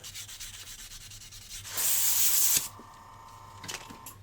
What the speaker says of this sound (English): So I find when using this resin, a nice 400 grit works really good.